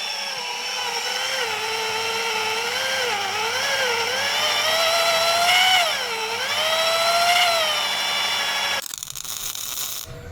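A lathe cutter machines a metal part for a MAZ truck, giving a loud, continuous metallic whine whose pitch wavers and rises as the tool bites, then breaks into a rougher noise at the end.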